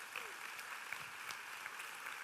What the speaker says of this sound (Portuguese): Quem pode dar um aplauso ao Senhor Jesus Cristo